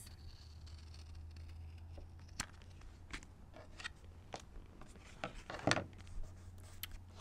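Scissors snip paper for a napkin-art altered index card, a few faint crisp cuts scattered over quiet room hiss, with a louder rustling snip near the end.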